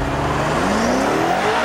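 A 2013 BMW M5 F10 launches hard from a standstill with launch control, its engine roar climbing steadily in pitch as the rear-wheel-drive sedan accelerates, loud and close throughout.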